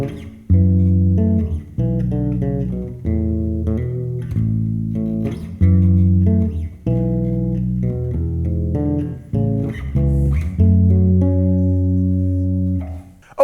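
Solo bass guitar plays a melodic Christmas bass solo passage, with clear sustained notes and a steady phrase rising through the chords, close and prominent with no talking.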